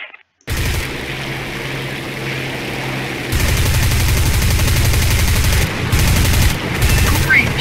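Aircraft machine guns in the combat game War Thunder firing in sustained, loud bursts over a constant engine drone, with brief gaps near the end.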